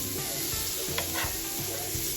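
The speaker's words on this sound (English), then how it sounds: "So traditional Newfoundland codfish, pan fried." Newfoundland codfish pan frying on a stove, a steady close sizzle and crackle of hot oil throughout, with a few soft clinks and scrapes of a utensil against the pan.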